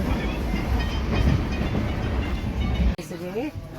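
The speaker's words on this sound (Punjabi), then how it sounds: "ਇਹ ਹੈਗਾ ਜੀ ਟ੍ਰੇਨ ਦੇ ਵਿੱਚ ਰਾਤ ਦਾ ਦ੍ਰਿਸ਼" Inside a moving train at night, a steady loud rumbling roar of wheels and carriage fills the space, then drops abruptly near the end as a faint voice is heard.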